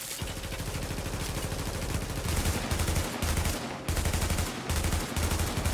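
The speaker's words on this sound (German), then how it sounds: "Ihr könnt durch den Busch schießen." Rapid automatic gunfire in The Division, shooting through a bush; fast repeated rounds in sustained bursts separated by short pauses, loud and close with no talk.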